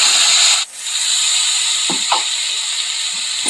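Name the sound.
onion paste added to hot oil with whole spices, sizzling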